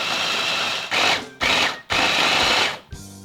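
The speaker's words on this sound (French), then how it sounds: "Dans le robot coupe, je vais mettre le beurre, la farine et le sucre et je vais mixer le tout." A food processor (robot coupe) mixes butter, flour and sugar for a dough, running in several loud motor bursts of about half a second to a second each, separated by short pauses, with no voices.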